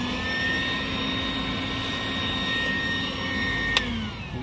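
A vacuum sucking leaf-footed bugs off dragon fruit plants outdoors: a steady, loud whining motor roar with high tonal hum, one brief sharp click near the end, no talking.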